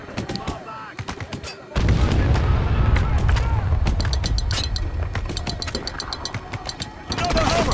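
Mortar and gunfire booms from the war shooter Spec Ops: The Line, a dense, loud barrage of repeated impacts and rumbling blasts with sharp cracks over a heavy low roar, battle chatter mixed in.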